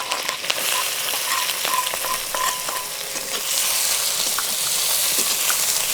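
Chopped onion and green chilli frying in a pan for a prawn momo filling, a loud steady sizzle with scattered spatula clicks and stirring, close by with no voices.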